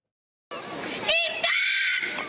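At a staged street protest in a town square, a blindfolded young woman screams for help, with sudden loud, strained cries starting after half a second of silence and continuing with brief breaks.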